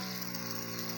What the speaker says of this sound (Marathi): त्या बघा किती छान औषध उडतं आहे बघा